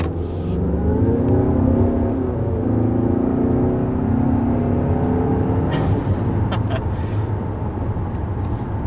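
Turbocharged engine of a 2021 Mazda 6 Carbon Edition pulling hard under acceleration: a loud, continuous rising drone with a whirring tone from inside the car, plus a few faint clicks near the end.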